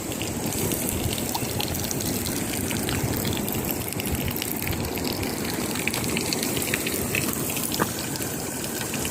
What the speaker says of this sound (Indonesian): Cuci tangan guys.